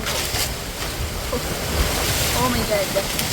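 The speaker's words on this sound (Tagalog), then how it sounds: "Mahangin pa rin po." Steady wind rushes across the microphone with surf washing in the background; a faint voice is briefly audible.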